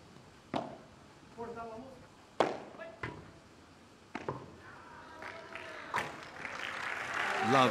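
Sharp ball strikes ring out on the centre court of a Premier Padel major in Italy, then crowd applause swells and builds toward the end, with a commentator's voice now and then.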